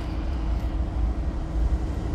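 A steady low rumble and drone, constant and unbroken, from a diesel locomotive engine idling nearby in a rail yard.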